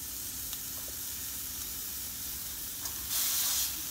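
Homemade pork sausage frying in a pan with only a little grease, a steady close hiss and sizzle that swells into a brighter burst of spitting near the end, no voices.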